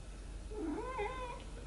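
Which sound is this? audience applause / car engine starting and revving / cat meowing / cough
cat meowing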